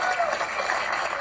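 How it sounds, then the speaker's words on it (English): Studio audience applause on a television quiz show, a brief, continuous wash of clapping at full loudness. "Give him a round of applause."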